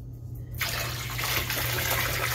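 Liquid is poured into a pan of cooking hot dogs and sets off a sudden, loud hissing sizzle that holds steady for the remaining two seconds over a low background hum.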